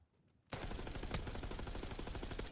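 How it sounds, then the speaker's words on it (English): Call of Duty gunfire erupts after a brief quiet start into a loud, sustained burst of rapid automatic shots with overlapping reports, heard in a match with no voices over it. "Shots coming like crazy."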